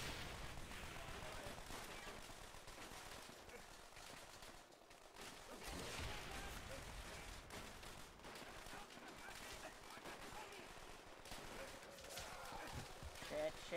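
Dense, continuous gunfire from the player's weapon in Call of Duty: World at War, a World War II shooter, loud and sustained for the whole stretch with crackling bursts layered over rumbling battlefield noise.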